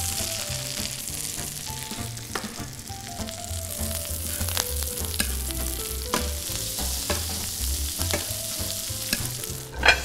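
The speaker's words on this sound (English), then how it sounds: "after basting for about a few minutes on that side, what we're going to do is flip it over and baste the other side" A steak fries in a pan while being basted with brown butter, giving a loud, close, continuous sizzle and spatter with frequent spoon clinks and scrapes against the pan.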